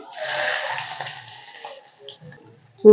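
Chopped onions dropped into hot oil already seasoned with mustard seeds and cumin, for an okra dish, giving a broad hissing sizzle that is loud at first and slowly dies down, followed by a sharp clank at the end.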